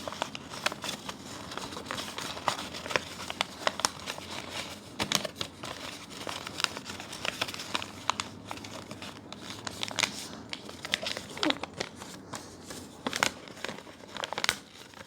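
Paper is folded into a paper boat with continuous close crinkling and rustling, punctuated by sharper creases and crackles throughout, with no voices.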